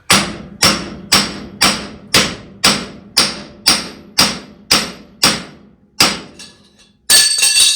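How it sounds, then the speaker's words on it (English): A heavy hammer strikes a rust-seized wheel hub on a Case 730 tractor about a dozen times in a steady rhythm, each blow a loud ringing thud, followed by a brief scraping clatter. "First attempt with a big hammer."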